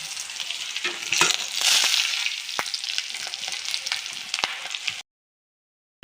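Garlic paste, dried chilli, green chilli and five-spice seeds frying in hot oil, a close, crackling sizzle with sharp pops and stirring, ending abruptly in silence.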